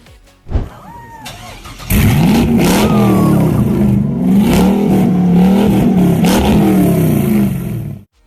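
Ferrari F80 hypercar engine, a brief blip near the start, then a loud sustained rev that rises and falls in waves for about six seconds before cutting off abruptly.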